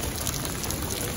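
Heavy rain pours steadily during a flood, a dense, even hiss of drops close by with no voices.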